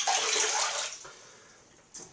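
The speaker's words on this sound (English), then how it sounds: "so I'm just going to rinse it off" Running water from a tap splashes as alum is rinsed off a freshly shaved face, a loud close rush that fades after a second, then a short second burst of water near the end.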